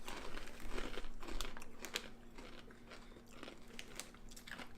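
Close-up crunching and crinkling as someone bites and chews a dry, crunchy pasta-shaped snack, a quiet series of irregular crisp snaps with rustling between them.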